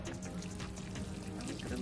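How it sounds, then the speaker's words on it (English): A small amount of water poured from a watering can, a steady splashing trickle running under a voice talking nearby throughout. "I think we're going to put a little water in the watering can."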